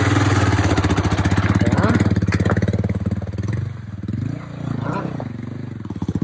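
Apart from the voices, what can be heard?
Royal Enfield Himalayan motorcycle engine being throttled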